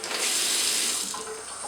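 Cold water runs steadily from a kitchen tap, a close, loud continuous hiss of flow with no talk.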